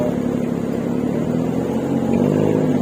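An ATV engine drones steadily and close while riding along a natural forest trail near Pattaya, holding an even mid-pitched hum with no talk.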